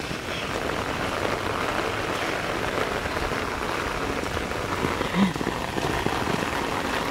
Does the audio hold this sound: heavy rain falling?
yes